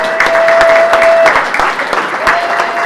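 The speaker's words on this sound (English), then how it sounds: "let's give our sponsors once again a round of applause" An audience gives a round of applause for sponsors at a community event, a steady wash of clapping from many hands with a faint sustained tone running beneath it.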